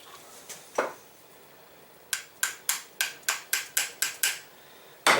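A night vision scope with a corroded battery stuck inside is struck repeatedly, about ten sharp, evenly spaced hammer knocks in a steady rhythm after a couple of isolated taps, loud and close.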